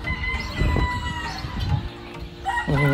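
A nearby turkey gives loud, throaty calls and gobbling clucks amid general farmyard poultry noise.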